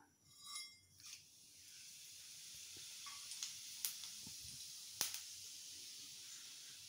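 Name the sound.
cinnamon, cloves and fennel seeds sizzling in hot oil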